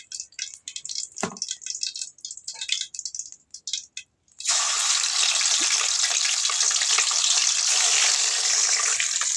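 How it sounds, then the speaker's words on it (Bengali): Pieces of rohu fish fry in a pan of oil. Scattered crackles and spatters come first, then a loud, steady hiss of sizzling oil takes over for the rest. "আবারও একইভাবে আরও মাছ যেগুলো আছে সেগুলো ভেজে নিব।"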